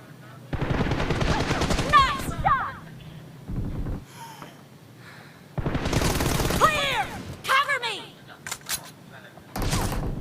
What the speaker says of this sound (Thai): เฮ้ยใครยิงข้างหลัง